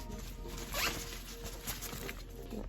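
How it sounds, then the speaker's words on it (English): A double zipper on a travel packing cube is pulled in one quick, close zip, then a few softer rasping tugs in a quiet room. "each of these bags comes with double zippers"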